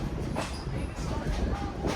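A Conway Scenic Railroad train rolls along its rails, a steady low rumble of wheels and carriage with faint rhythmic clatter, heard from inside the ride with no voices.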